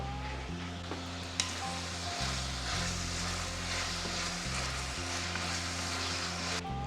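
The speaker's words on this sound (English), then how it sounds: "We're going to give that another stir." Leftover turkey sizzling steadily in a pan while being stirred, an even close frying hiss with occasional scraping clicks and no talking.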